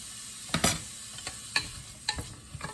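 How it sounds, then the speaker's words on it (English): A half onion sautéing in a pan over medium to high heat, giving a soft continuous sizzle broken by a few sharp scraping and tapping hits as it is stirred, moderately close. "we're going to add a half onion in here. And we're going to just let this saute on medium to high heat"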